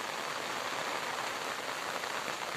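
Steady rain falls across open fields where cattle and sheep graze in fog, a continuous dense hiss of drops close by with no talk.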